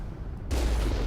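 A sudden burst of gunfire in the video game Mass Effect, a dense booming barrage that kicks in halfway through after a quieter rumbling stretch.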